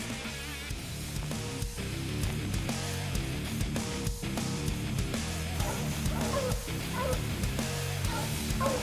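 Hunting dogs treeing a mountain lion in Montana, barking and whimpering continuously from a short distance, with overlapping yips and whines.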